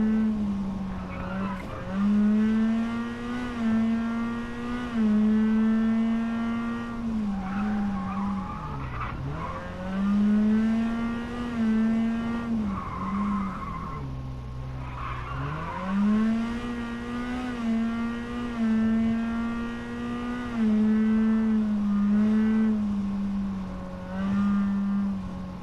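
A rally car engine drones steadily while racing on tarmac in WRC 10, holding a buzzing high-revving tone that dips twice as it brakes into corners and climbs again on the throttle, with tire squeal mixed in.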